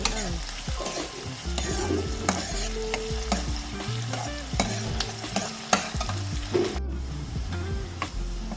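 Finely chopped onion fries in a hot pan for a vegetarian biryani, a loud continuous sizzle with repeated spoon scrapes and clanks against the pan, close and without talk.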